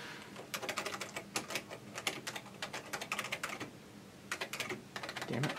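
Someone types on the keyboard of a Tandy 1000 RLX computer running WordPerfect 5.1, producing close, quiet clacking keystrokes in quick bursts with a short pause before the typing picks up again.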